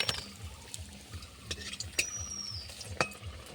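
Potato chops (aloo chop) frying in a pan of oil, a soft bubbling sizzle under repeated clinks and scrapes of a metal spatula against the pan as the chops are turned, close and fairly quiet.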